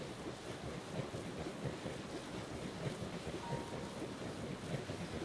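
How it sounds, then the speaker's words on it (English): Sandstorm wind in Breath of the Wild, a steady, dense roar of blowing wind and sand that keeps going without pause. "It's in the middle of the sandstorm."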